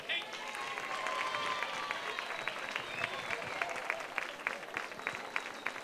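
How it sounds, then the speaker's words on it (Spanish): Audience applause welcoming a comedian to a stand-up stage, steady dense clapping from a crowd that holds evenly throughout. "Vamos a recibir con un fortísimo aplauso a Tony Rodríguez."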